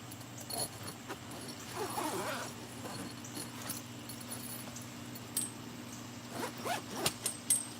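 A tent's zipper being opened outdoors at a campsite, short rasping zip strokes and faint jangling clicks spread across the stretch, fairly quiet against a low steady hum.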